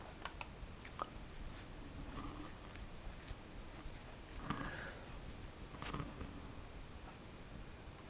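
Sharp mouse clicks during an Ubuntu 22.04 desktop install on a computer, a few scattered quiet clicks spaced over several seconds against low room hiss, with no talking.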